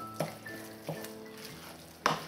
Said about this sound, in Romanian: Mai călim puțin și cu bulionul